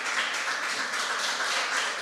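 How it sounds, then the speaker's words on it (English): A small audience at a tech conference talk gives a brief, light round of applause, a steady wash of scattered claps holding at an even level for about two seconds with no talk over it. "can you just give like a little round of applause if you've heard of it?"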